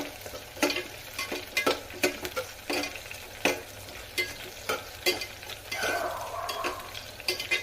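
Onions sizzle steadily in a pan for spinach rice bath, with a spatula scraping in distinct, irregular strokes close by, and a brief louder hiss near the end.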